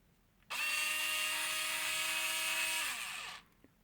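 A Matrix Neo cordless screwdriver spins up sharply, holds a steady high-pitched electric motor whine for about three seconds, then winds down and stops. It is close and loud against a quiet background.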